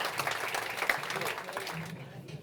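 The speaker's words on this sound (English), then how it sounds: "Give yourselves a round of applause and take a seat" Audience at a talk at Google Dublin gives a round of applause, a soft, diffuse patter of clapping heard from a distance under and around ongoing speech, thinning toward the end.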